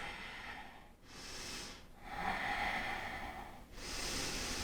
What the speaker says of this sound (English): Take 3 more big breaths.